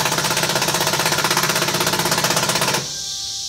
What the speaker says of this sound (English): He's still down there tightening up some of those carriage bolts.